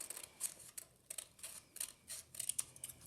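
Scissors cut through paper for an articulated dragon puppet craft, making a run of crisp, close snips in an uneven rhythm with quiet gaps between cuts.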